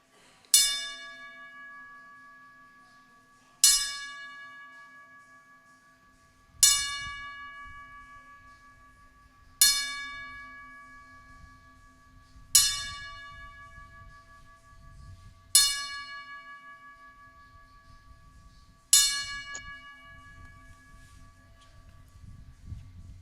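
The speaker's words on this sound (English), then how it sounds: "Yeah, that was 10 bells." A church bell in Chile strikes ten times, each loud ringing clang decaying slowly before the next at steady intervals of about three seconds, with faint low background noise between strikes.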